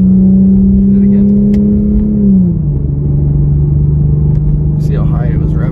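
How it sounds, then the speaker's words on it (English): An Infiniti Q50 engine revs high and steady, a loud sustained drone that drops in pitch partway through as the paddle shifter changes gear, with people talking over it. "See how high it was revving?"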